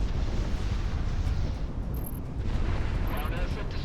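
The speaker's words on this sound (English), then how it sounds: "Let's try out the bombs on these targets. Field separation, bombs away." Bombs dropped on ground targets in the combat flight game Project Wingman detonate in a dense, continuous rumbling roar of explosions that stays steady and heavy throughout.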